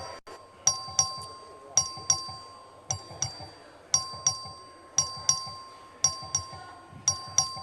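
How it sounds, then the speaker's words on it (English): A legislative voting bell in the Texas House of Representatives chamber rings in a steady repeating pattern, each bright metallic double ding striking clearly and decaying before the next, over faint room ambience with no talk. "The clerk will ring the bell."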